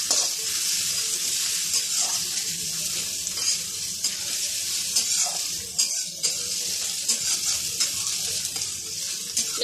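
About a spoonful of garlic paste fries in a pan while being stirred, a continuous bright sizzle with soft scraping strokes and small pops running throughout, close and steady with no one talking.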